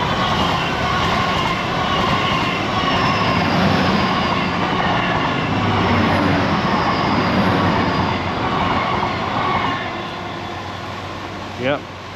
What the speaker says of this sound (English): Anyway, I think there is a train coming.